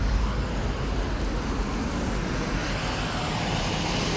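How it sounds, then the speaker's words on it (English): A 2011 Ruud 3.5-ton, 13 SEER air conditioner condensing unit with a Copeland scroll compressor and ProTech fan motor runs outdoors with a steady, broad whooshing hum from close range, alone without talk. "I figured I'd make a little quick video of this condensing unit."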